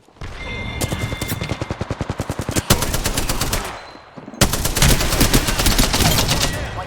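The Spitfire light machine gun in Apex Legends fires long, rapid automatic bursts, loud and close, with a short gap before a second sustained stream of shots.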